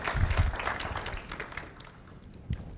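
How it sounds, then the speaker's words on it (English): Audience applause at a real estate and note investing presentation, a scattered burst of clapping from a crowd that fades over a couple of seconds. "I'm getting applause already."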